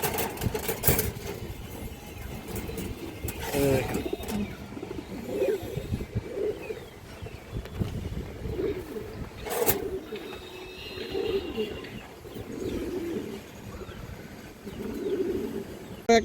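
Pigeons on a farm, silver, khaki and other breeds, coo softly and repeatedly close by in a quiet pen, with occasional sharper flutters or knocks and a faint low hum beneath.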